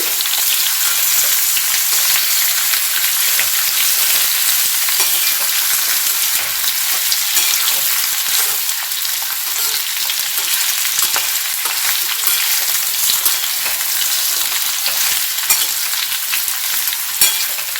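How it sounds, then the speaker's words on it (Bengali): Radish and slit green chili sautéing in a pan make a loud, dense, continuous sizzle that holds steady throughout, close up, with no speech. "একটা চিড়ে নেওয়া কাঁচা লঙ্কা দিয়ে মূল্যটা হালকা করে কষে নিচ্ছি"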